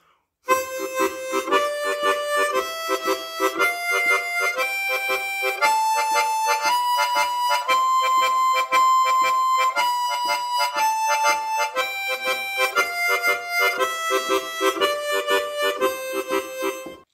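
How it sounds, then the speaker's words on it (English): Harmonica playing a shuffle rhythm in a tongue-slap lesson, steady pulsing chords that step up and back down in pitch over about sixteen seconds, close and solo. "Or you could play a shuffle rhythm."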